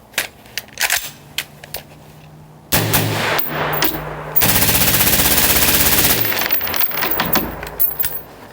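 MK18 carbine firing rapid automatic bursts outdoors in winter, loud close cracks in short strings and then a long sustained burst, followed by a few scattered shots and clinks.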